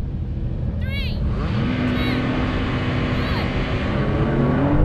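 Several Porsche cars, 911 and Cayman models, launch together off a race start, a loud continuous roar of engines accelerating close by with rising whines sweeping through the pack.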